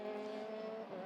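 A Teo Martin Motorsport race car in Euroformula Open qualifying at the Hungaroring, its engine holding a steady high whine for a brief moment, moderately loud with no talk.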